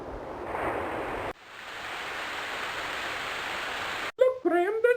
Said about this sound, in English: A cascading waterfall, though very beautiful, nevertheless cuts off further travel up the coast.